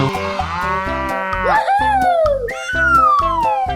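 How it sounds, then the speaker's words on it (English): Loud, drawn-out cow moos from a 3D animal slide game, two long bellowing calls, the second rising then sliding down, over a rhythmic pulsing game music backing. "Cow."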